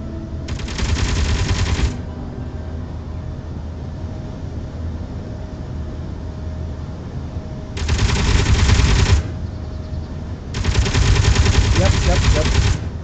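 Weapons on a large-grid fighter ship in the game Space Engineers fire in three sustained rapid bursts, the first short and the last two longer, over a steady background hum.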